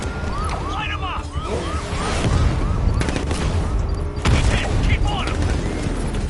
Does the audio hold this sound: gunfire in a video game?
yes